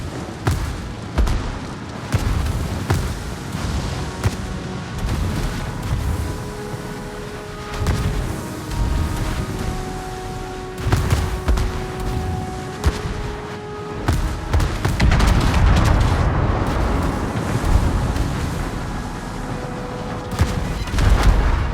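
Naval gunfire in World of Warships, repeated booming shots and impacts striking an enemy ship, with dense layered blasts and sustained rumble through the battle.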